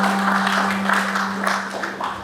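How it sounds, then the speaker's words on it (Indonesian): Wedding congregation in a church applauding during the marriage blessing of Rony and Hanna, a dense, moderately loud patter of many hands clapping in pulsing waves, with a steady electrical hum underneath. "Beri tepuk tangan dulu."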